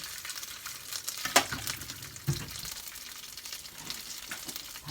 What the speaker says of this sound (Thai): ผัดให้พริกแกงเราหอมก่อนนะคะเนาะ